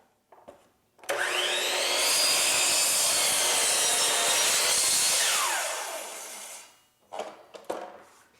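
A miter saw cuts an outside corner bevel in wood trim with a loud, sustained whine of about five seconds that tapers off as the blade spins down. Short knocks follow.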